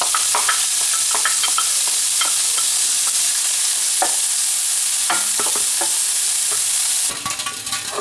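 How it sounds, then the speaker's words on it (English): Bacon sizzles loudly in hot oil in a pan, a dense, close, continuous crackle dotted with sharp pops and brief scrapes, turning a touch more uneven near the end. "we'll start off with some oil in the pan. We'll put in our bacon."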